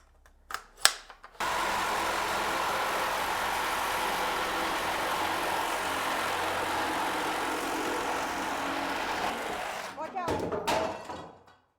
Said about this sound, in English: So the carbide tip cuts the cast iron like butter when it's sharp.